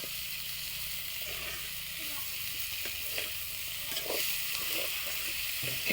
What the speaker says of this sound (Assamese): এই তিতা ফুল কিনাৰতে এনেকৈ ভাজি ল'ব